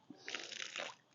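Faint, brief splash and trickle of water poured onto potato grow bags in a garden, heard from a short distance.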